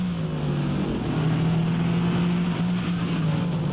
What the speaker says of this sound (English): Here's George Peterson in the number 58 BMW M4 GT3. Now making it 3 wide, coming across the front stretch.